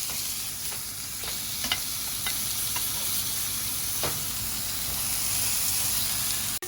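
A turkey burger patty seasoned with black pepper sizzles steadily in a frying pan, a continuous close frying hiss with a few faint clicks and scrapes, and no talking.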